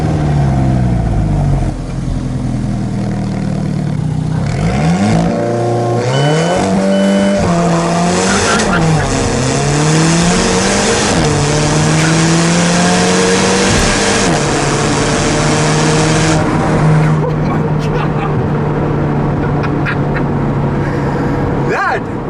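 A 2015 Alfa Romeo 4C engine roars loudly, revving hard as it makes a race launch at about 6,000 rpm and climbs through rising gears, with a brief tire squeal and strong sustained acceleration.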